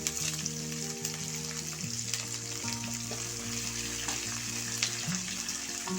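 Chopped onion, curry leaves and green chili sauté in hot oil for a white pumpkin sambar, giving a steady close sizzle with faint stirring and light clatter throughout.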